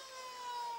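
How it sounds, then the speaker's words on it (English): Full-time siren at an Australian rules football match, North Geelong against Belmont Lions in the Geelong district league, a steady sustained tone held loud and alone through the whole moment with no pulsing. "there's the siren for full time."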